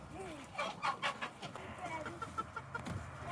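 Isa Brown chickens cluck and squawk in repeated short calls close by, with farm background noise and a few louder bursts.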